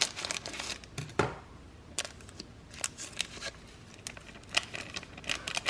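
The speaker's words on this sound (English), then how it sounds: "I'm just gonna use scissors." Close, quiet crinkling of a small plastic flavor packet of instant noodle cheese powder being cut open with scissors, a series of crisp snips and clicks scattered irregularly throughout.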